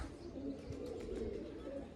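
A lone pigeon coos softly and low, a faint continuous murmur with a few brief chirps, set against steady outdoor background noise.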